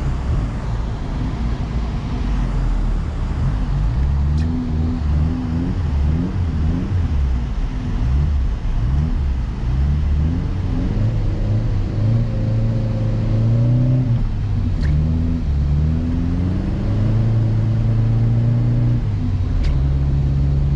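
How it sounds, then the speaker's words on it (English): A 1984 Toyota Tercel 4WD drifting in the snow: its engine rumbles continuously and revs up and down for about twenty seconds, close and fairly loud, with no talking. "that was Tercel drifting."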